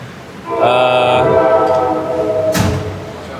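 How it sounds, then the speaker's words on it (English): A train horn blares in a sustained chord for a couple of seconds, close and loud, ending with a sharp burst of noise. "The train."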